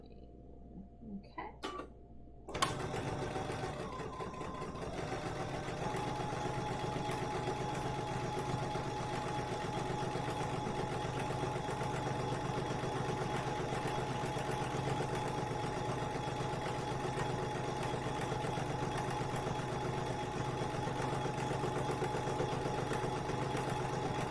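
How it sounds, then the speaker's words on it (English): A BERNINA sewing machine starts up after a brief pause and runs at a steady, continuous pace, its motor humming close and evenly for about twenty seconds with no talk. "We're just going to start sewing."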